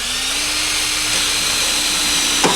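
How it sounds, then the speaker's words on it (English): A power drill with a small bit whines at a steady pitch while pre-drilling a pilot hole for a lag bolt during a truck camper step install, one continuous run that cuts off abruptly at the end. "Just do a pre-drill with a small drill bit here"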